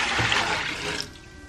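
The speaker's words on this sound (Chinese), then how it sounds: "灶台上装上蒸锅，里边加入清水" Clean water runs steadily into a steamer pot set on a stovetop for steaming cauliflower, a continuous close, moderately loud pouring rush that eases off near the end.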